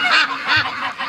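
Canada geese flying overhead give a few nasal honks in quick succession, moderately close and clear, with no talk.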